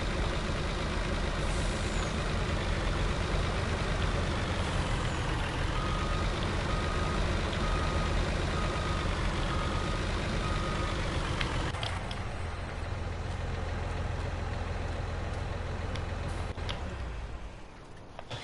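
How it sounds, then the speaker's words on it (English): Steady drone of a vehicle engine left running in Farming Simulator, continuous and loud for a long stretch before it thins and drops away near the end. "Oh, left the engine on it."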